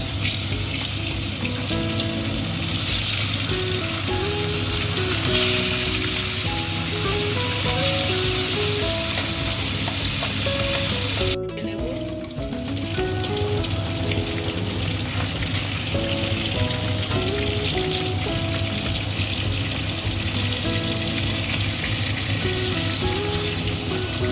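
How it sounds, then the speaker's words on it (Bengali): Hilsa fish frying in hot oil, making a loud, constant crackling sizzle throughout, briefly dipping near the middle, with melodic background music running underneath. "তেলটা গরম হয়ে গেছে মাছগুলো সব ভেজে নেব"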